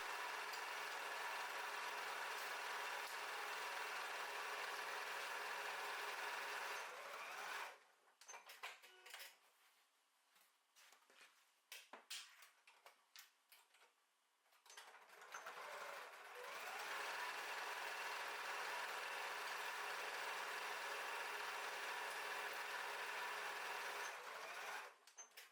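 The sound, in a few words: sewing machine stitching fabric panels together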